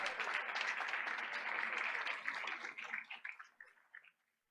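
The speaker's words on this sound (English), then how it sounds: "Let's give them all a big round of applause." Audience applause at a school board meeting, a dense burst of clapping that holds steady for a few seconds, then thins into scattered claps and fades to silence.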